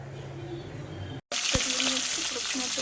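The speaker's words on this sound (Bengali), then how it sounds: "প্রথম আমার মাছগুলো আমি ফ্রাই করে নিয়েছি এত সুন্দর করে" Hilsa fish rubbed with turmeric and salt frying in hot oil in a wok, a loud dense sizzle broken by a short cut and a sharp clank, with some low background noise.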